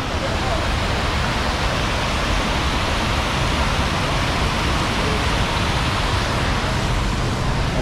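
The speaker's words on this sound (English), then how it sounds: "As you can see, there's a lot of water flowing." Heavy rush of water flowing after a downpour, a steady loud broadband roar like a nearby waterfall filling the whole clip without a break.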